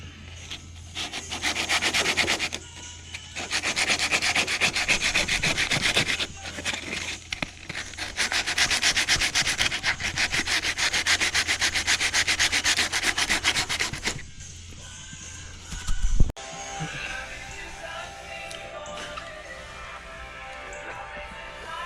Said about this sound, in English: This area we'll just have to trim a little and get to sanding.